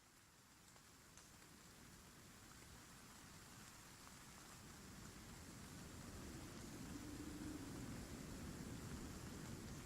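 A rain ambience sound effect for a graveyard scene in a tabletop role-playing game plays as a steady, soft hiss of falling rain that swells slightly louder over about ten seconds, with no talking.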